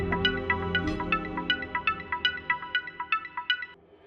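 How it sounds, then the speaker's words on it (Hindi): A mobile phone ringtone chirps in a repeating melodic pattern over a low steady hum indoors, about a dozen bright tones in quick succession, moderately loud, then cutting off near the end. "किसका फोन है?"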